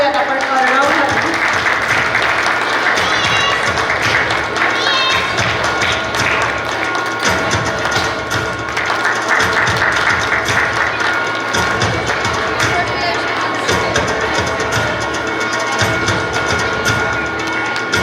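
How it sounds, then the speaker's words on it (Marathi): An audience at a school prize-giving ceremony claps for a young student, a steady broad patter of applause running through the stretch beneath a voice and tonal background sound. "जोरदार टाळ्या वाजवूयात आपण अर्णवसाठी"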